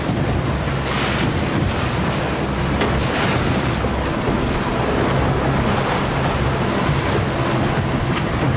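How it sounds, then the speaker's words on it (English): Steady, loud wind roaring over open water, with waves and surf rushing continuously around a moving bluefin tuna fishing boat; no voices. "Hear the wind on the boat, boys?"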